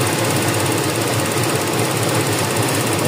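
A loud, steady mechanical rattle with a fast knocking rhythm drones continuously and close by from a warm Toyota Revo 7K engine with low power, black smoke and an ECU code 31 fault, with no voices.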